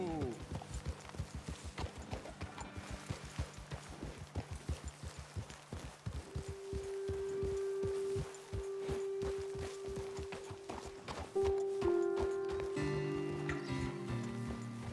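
Horses in the video game Red Dead Redemption 2 walk with a steady, close clip-clop of hooves that slows and fades, followed by a sustained tone and a voice speaking.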